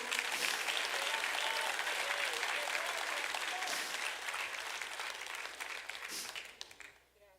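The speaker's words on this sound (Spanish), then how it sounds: "Denle el aplauso al Señor." Church congregation applauding during a service, broad sustained clapping that fills the room, then thins and fades away at the end.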